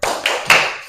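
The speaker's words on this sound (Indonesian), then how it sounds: "kita tepuk semangat dulu boleh?" A class's rhythmic clapping chant, tepuk semangat, in a classroom: three sharp group claps in a short burst, close and fairly loud, with no talk over them.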